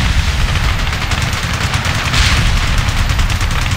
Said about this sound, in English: Heavy fire coming back at us.